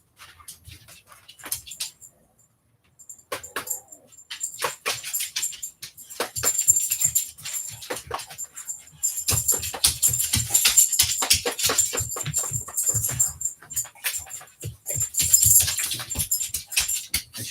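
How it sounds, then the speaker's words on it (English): A large guard dog shuffles and moves about indoors, with scattered thumps, clicks and jingling like tags or keys, and faint whimpers in the quieter opening stretch. "She's a great guard dog."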